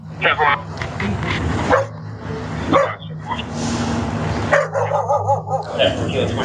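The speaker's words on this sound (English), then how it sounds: "We have a dog that's under there." A dog barks and yips repeatedly in an apartment during a police call, loud, close bursts mixed with people talking over them throughout.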